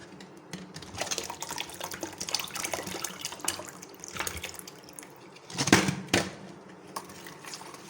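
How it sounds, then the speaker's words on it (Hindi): Water is poured into pakora batter in a pot, a soft trickle with faint drips and splashes, followed by a couple of louder sloshing bursts near the end. "अब हम इसके अंदर थोड़ा सा पानी डालते हैं।"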